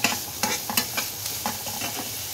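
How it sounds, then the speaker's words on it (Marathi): Finely chopped onion fries in a pan for a paneer dish, a bright constant sizzle broken by quick rhythmic stirring scrapes, close and fairly loud with no talk. "आता यात थोडासा कांदा घालून घ्यायचा आहे।"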